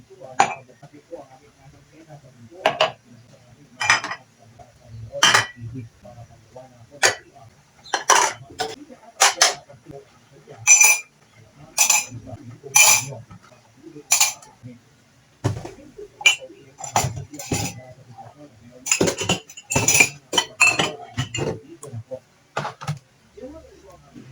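Plates and cutlery clink and clatter in irregular bursts while someone washes dishes by hand, with close, sharp knocks and scrapes and a voice murmuring at times underneath.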